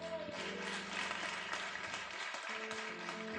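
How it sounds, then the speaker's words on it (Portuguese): A church congregation applauds at an evening service, a steady wash of clapping over a sustained instrumental backing. "Você pode aplaudir Jesus?"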